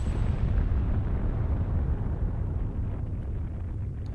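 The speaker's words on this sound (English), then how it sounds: "Bad explosions and everything going on." Explosions rumble in the video game Fuga 2 while trapped inside a tank, a dense, continuous low roar like distant blasts and heavy fire, steady and loud throughout with no voices.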